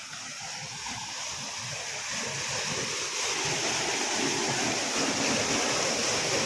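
A steady rushing of water pours continuously from a pump into a pit in a farm field, growing slightly louder, with a broad hiss and no voices.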